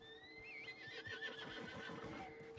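A nervous horse neighs and whinnies in Red Dead Redemption 2, wavering high calls over a low background hum, with faint hoof movement, fairly quiet.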